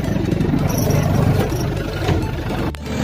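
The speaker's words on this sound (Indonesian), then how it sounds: "Mesin diesel. Wih, mantap." A Suzuki Vitara fitted with a swapped Isuzu 4JB1T turbo diesel engine runs steadily and loudly with a low, rumbling diesel drone and light clatter, sustained throughout with a brief dip near the end.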